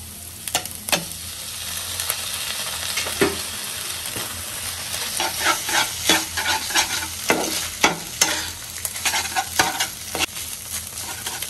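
Instant noodles being stirred in a frying pan: a steady soft sizzle under repeated scraping and clacking strokes of a utensil against the pan, close and clear with no talking.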